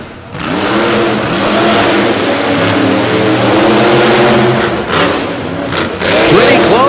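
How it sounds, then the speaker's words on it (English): Monster truck Barbarian's engine revs hard and sustained during a racing run at a Monsters of Destruction event in Madison, Wisconsin, a loud continuous roar with pitch swells and a brief dip near the end, crowd and commentary noise beneath. "Devin Jones winds up the Barbarian."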